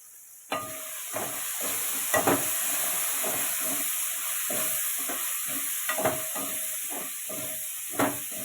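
Tomatoes for a fish curry sizzle and hiss in hot oil while being sautéed, with a steady fry noise broken by repeated soft stirring scrapes of a spoon against the pan, all fairly close.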